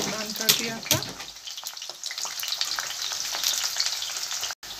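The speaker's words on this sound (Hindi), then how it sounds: "देखिए बैंगन फ्राई हो रहे हैं" Dried brinjal (eggplant) slices frying in a pan over a full flame for a Kashmiri dish, giving a dense, steady crackling sizzle with a few louder pops early on.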